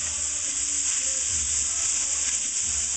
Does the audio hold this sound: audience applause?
no